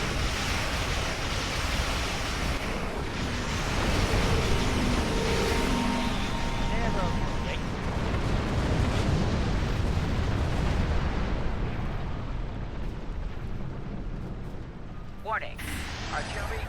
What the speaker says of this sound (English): Warning. Artillery incoming.